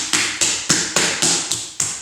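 Bare hands smack a wedged lump of pottery clay before throwing a mixing bowl, seven sharp, evenly spaced slaps in a steady rhythm, loud and close with no talk.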